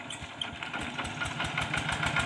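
An old tractor engine is started up to drive a cassava molding machine. It runs with a fast, even chugging knock, loud and close, with no talk over it.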